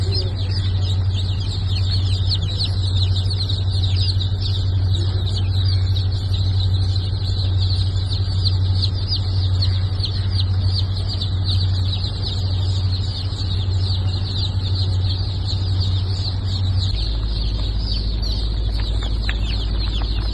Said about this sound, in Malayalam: ഫാൻസി കോഴിക്കുഞ്ഞുങ്ങൾ